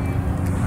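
A car engine runs close by, a brief low steady rumble with no voices over it.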